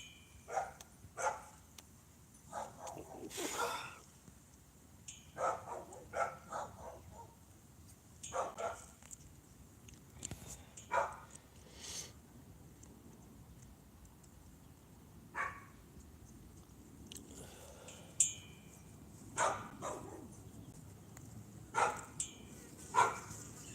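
Several dogs bark repeatedly in the distance, sharp scattered barks and yips with some whimpering, some bursts overlapping and the rest spaced out, over a low background hum.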